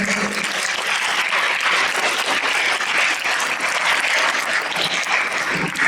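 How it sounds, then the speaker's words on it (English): An audience applauds musicians at a Republic Day event, dense continuous clapping that stays loud and even for several seconds from a large crowd in a hall. "So a big round of applause for our musicians"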